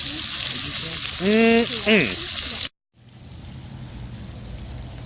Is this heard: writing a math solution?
no